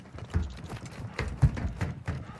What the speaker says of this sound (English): where I heard footsteps